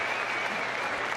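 Steady, dense applause from the crowd on its feet in the main arena at the Crufts 2014 flyball team final, a continuous close clapping roar with no breaks.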